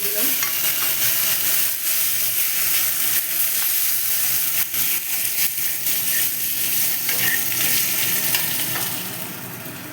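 Mustard and green chilli paste frying in a pan, a steady loud sizzle with stirring scrapes running continuously and easing slightly at the end.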